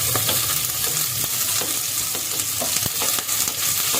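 Long-sliced onions frying lightly with cumin in a pan, a loud close continuous sizzle broken by stirring scrapes and small crackles.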